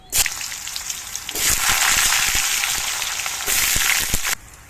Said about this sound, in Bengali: ফোড়নটা গরম হওয়ার পর এর মধ্যে দিয়ে দিচ্ছি কিছু আলুর টুকরো।